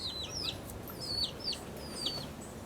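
A chicken on Saint Martin gives a run of short repeated clucks and chirpy calls, fairly close, over soft outdoor background noise.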